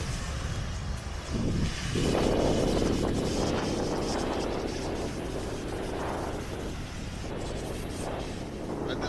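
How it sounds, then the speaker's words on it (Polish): Strong wind on a flat sandy beach in Sicily buffets the microphone with a loud, continuous rumbling roar that swells and eases but never lets up. "Będę muszę głośniej mówić, bo strasznie wieje."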